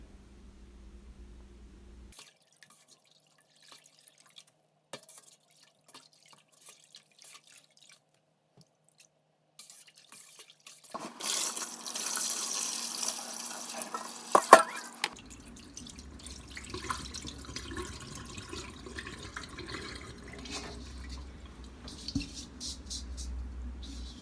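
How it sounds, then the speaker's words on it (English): Okazi (afang) leaves being washed by hand in a bowl of water for afang soup: near-silence at first, then close splashing, sloshing and dripping as the leaves are swished and lifted from the water. "So you wash it with enough water. You don't wash and drain out the water. You have to wash the okazi and bring it out of the water."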